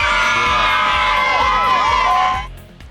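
Young LTU fans crowd-cheering at a women's basketball Kids Day game against Grace Christian College in a packed fieldhouse, loud sustained shrieks and whoops from many children that cut off sharply near the end.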